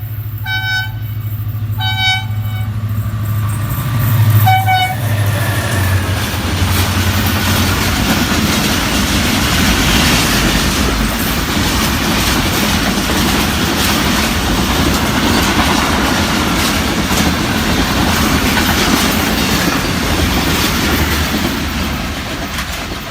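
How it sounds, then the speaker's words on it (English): Tezgam passenger train running from Karachi to Peshawar at around 109 km/h, passing close by: a short horn toots open the pass, then a loud, sustained roar of rolling carriages and rail clatter fills the rest without pause. "And this train Tezgam coming from Karachi and going to Peshawar"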